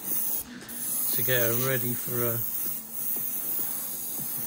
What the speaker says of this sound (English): what we're doing at the moment is spraying her up